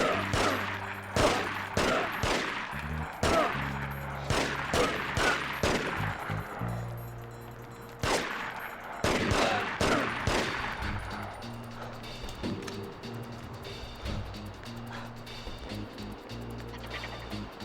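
Rapid gunfire in an arcade sports video game, loud repeated shots in fast volleys over a game music backdrop, thinning out toward the end.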